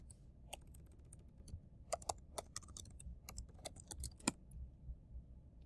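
Fingers typing on a computer keyboard, a quiet irregular run of close key clicks with short pauses between bursts.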